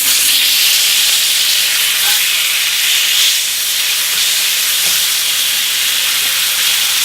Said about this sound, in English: I'm going to just take the steak and flip it over.